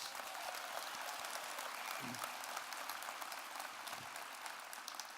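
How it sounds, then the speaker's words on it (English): Audience applause at an award ceremony, steady dense clapping filling the room at even volume throughout, with a brief murmur of voices partway through. "Let's all give Dina a big round of applause."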